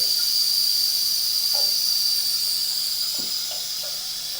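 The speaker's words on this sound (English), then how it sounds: "I'm actually going to run some water here in the stationary tub" Tap water runs steadily into a stationary laundry tub in a house, a constant hissing rush that stays even and fairly loud throughout, with a few faint knocks in the background.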